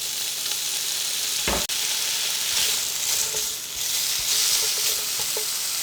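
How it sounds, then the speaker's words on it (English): Sausage sears in a hot deep pan with a steady broadband sizzle, broken by a sharp clatter or scrape near the start and soft stirring movements, close and continuous with no talk. "we're going to add our sausage and we're going to get a good sear on it"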